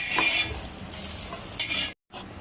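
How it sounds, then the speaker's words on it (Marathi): Fried green chilies for a Maharashtrian thecha are stirred in a hot pan and scooped out, with a steady close sizzle and scraping stirs, then a brief pause before the frying resumes. "आता ह्या मिरच्या मी काढून घेते"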